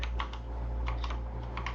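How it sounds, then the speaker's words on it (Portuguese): Fingers tap on a new computer keyboard, giving a quick irregular run of soft clicks, close and fairly quiet over a low steady hum, with no talking. "Estou me habituando com um teclado novo aqui"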